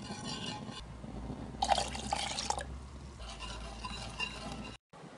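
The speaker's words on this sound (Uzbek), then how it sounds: "yarım kilo sütimizni, yani 500 gram sütimizni az-azdan qo'yib turib, qo'yilguncha aralashtiramiz" Milk poured gradually into a cake batter while it is stirred, a steady liquid trickle with soft wet mixing and a few brief drip-like plinks, close up and continuous, cutting off near the end.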